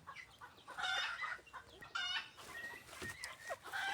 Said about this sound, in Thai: คือกระตากเลยครับจะได้ยินบ่ครับ